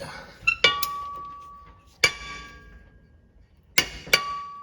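A torque wrench set at 19 foot-pounds clicks while a drive shaft bolt is tightened. Several sharp metallic clicks and clinks come in small clusters, separated by quiet pauses, with a faint ringing tone in between.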